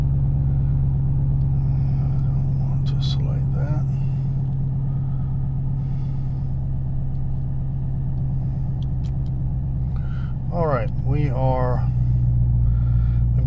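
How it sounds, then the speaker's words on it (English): A Chevrolet Camaro SS, sixth generation, idles with a steady low rumble after being started, while someone talks over it and faint chimes sound. "we've got the vehicle cranked"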